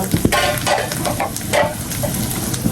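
Fish coated in turmeric and chili powder fries in hot oil on a high flame, giving a steady close sizzle with intermittent stirring scrapes.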